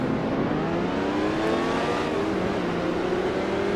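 A 1967 sports car in Grand Prix Legends holds a loud, sustained engine drone whose pitch sweeps steadily through the whole stretch, with no talking over it.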